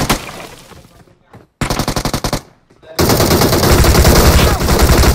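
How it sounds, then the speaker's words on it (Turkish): Rapid bursts of gunfire in the battle royale game PUBG Mobile, loud and close, in three volleys separated by short gaps, the last one sustained to the end. "Hadi Raşa da pompalayıp vurayım"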